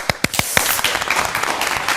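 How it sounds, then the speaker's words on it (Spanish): An audience gives applause to a guest, a short burst of several loud claps up front, then a softer patter of clapping that fades. "Un aplauso para ti."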